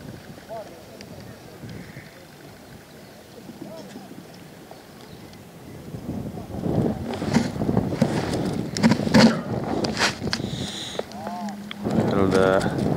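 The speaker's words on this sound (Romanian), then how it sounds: "Bate vântul, vijelie." Strong wind blowing over the Olt river while fishing from a boat, a gusty buffeting rush on the microphone that grows louder and rougher midway, with people talking over it.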